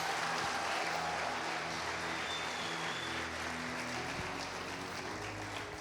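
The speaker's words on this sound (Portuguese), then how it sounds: "Vamos dar uma salva de palmas para esses irmãos aqui." A church congregation claps together in steady, dense applause that holds evenly for several seconds at moderate distance, with no talking over it.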